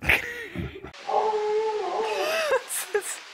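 An Alaskan husky sled dog lets out one drawn-out, wavering howl close by, about a second and a half long, after a burst of rustling noise, with faint yips near the end.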